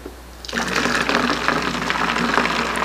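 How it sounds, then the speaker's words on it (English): Hot soapy water is poured into a funnel, a steady gushing, bubbling flow that starts abruptly and continues loudly to the end. "I'm going to pour this into the funnel"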